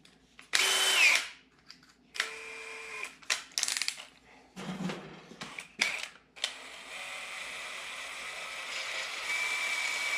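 Power drill with an 11/64 bit during brake line fabrication and Chevrolet axle work, several short whirring bursts stop and start, then a longer steady run, close and fairly quiet, with no talk.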